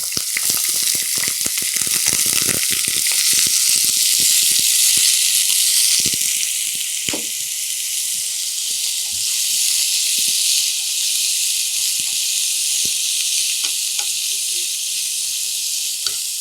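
Boiled snake gourd frying in a hot pan with curry leaves, a loud continuous hiss and sizzle close up, punctuated by frequent crackles and spatula scrapes throughout.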